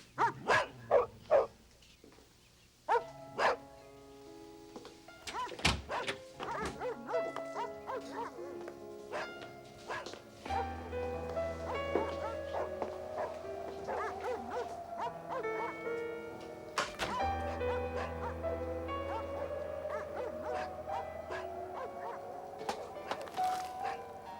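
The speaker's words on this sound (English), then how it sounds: "don't worry about those dogs. Every time anyone goes in that room, they bark like that" Several dogs bark in an indoor room in a thriller film, with repeated sharp barks and yelps over a tonal musical score, loud at first and then continuing under the music.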